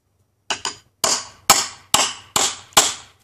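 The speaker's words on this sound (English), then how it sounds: "we're going to take our nail puller, and we're going to put it on the top part of the joint." Six sharp, loud metal-on-metal strikes of a hammer driving a nail puller into the joint of a wooden pallet, the first two close together and the rest evenly spaced, with no talk.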